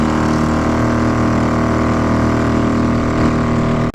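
A small outboard motor on a motorized kayak runs steadily at about 5 mph, a loud, close, constant droning hum with no talk, cutting out abruptly at the very end.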